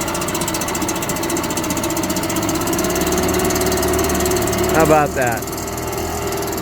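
A British Seagull outboard boat motor runs steadily at a lake, a constant loud mechanical drone throughout, with a brief spoken exclamation near the end over the engine.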